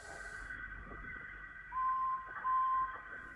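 Two short, clear steam engine whistle tones from the Trainz train simulator game sound in quick succession over a quiet low hum, the second slightly longer than the first.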